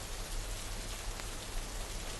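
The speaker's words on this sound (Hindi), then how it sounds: "देखो ना बाहर का मौसम, देखो ना कितनी तेज़ बारिश है।" Heavy rain pours outside in a thick, constant wash of hissing noise with a low rumble underneath. The downpour stays steady and unbroken for the whole stretch, with no voices.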